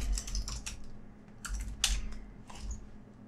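Fingers type on a computer keyboard in short clustered bursts of crisp key clicks separated by brief pauses, close and clear with no talking.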